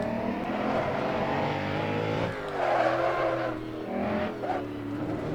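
A Koenigsegg One:1 hypercar in the Assetto Corsa racing game roars steadily at high speed on the Nordschleife, its engine note rising and falling through gear changes, loud and continuous without any talk.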